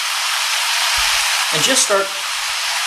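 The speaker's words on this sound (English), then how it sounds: "We're going to start frying that rice." Rice for steak fried rice sizzles steadily as it fries in a wok, a constant bright hiss running the whole time beneath a brief spoken phrase and some low stirring sounds.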